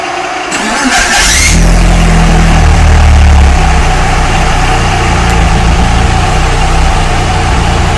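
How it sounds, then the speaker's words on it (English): A 2G DSM turbo engine fitted with 1000cc injectors cranks briefly, fires up, and then settles into a loud, steady idle, heard close by with no talking. "It's idling smooth at 850 RPMs now off 1000 cc's."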